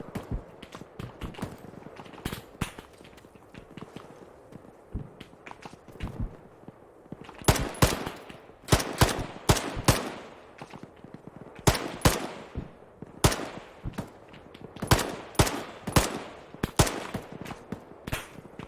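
Rifle fire in the military shooter Arma 3, sharp cracks coming singly and in irregular clusters, some close and loud, others more distant, over a steady background.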